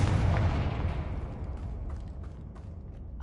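A Confringo blasting spell explodes in Hogwarts Legacy, a loud deep boom at the start that rolls off into a long rumbling decay with faint scattered crackles.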